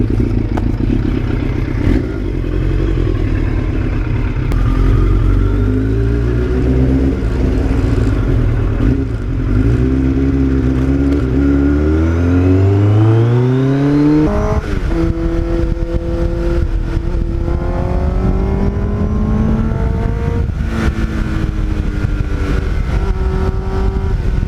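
A 1989 Kawasaki GPX750R motorcycle rides on open road, its engine droning loudly and climbing in pitch through the gears, with a shift and renewed acceleration midway and steady wind rush throughout.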